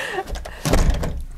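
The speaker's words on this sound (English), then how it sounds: "Shutting the door." The front door of a new-build show home is pushed shut, a single solid thud landing midway after some brief shuffling, close and moderately loud.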